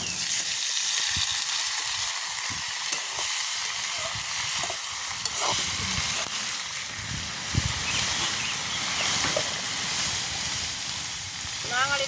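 Onions and potatoes sizzle and fry steadily in a pan in a village kitchen, a constant broadband hiss with occasional stirring scrapes and clinks close by, continuing throughout without pause.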